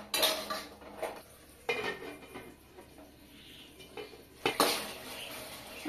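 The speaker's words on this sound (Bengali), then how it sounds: "আর চিকেনটা সেদ্ধর জন্য আমি একটু সামান্য জল দিয়ে ঢাকা দিয়ে দেবো।" Metal pot and utensil clatter while a little water goes into minced chicken keema and a lid is set on top, several sharp clanks separated by quieter gaps.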